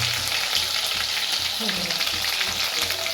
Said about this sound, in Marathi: आता तिला फोडणी देण्याचं काम चालू आहे तेल गरम झालेलं आहे